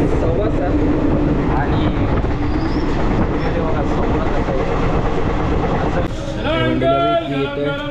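A passenger train on Indian Railway rolls along with a loud, steady rumble and rattle of wheels on track, close by; toward the end the noise eases slightly as a voice and some tonal sounds rise above it.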